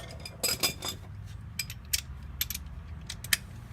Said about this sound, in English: Now, I'm just going to take my ratchet and the socket.